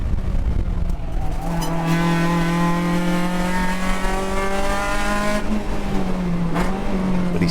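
A race car pushed hard around a Las Vegas track during a USTCC 2021 race, its engine a loud sustained drone holding pitch and then shifting as it accelerates, heard close and alone.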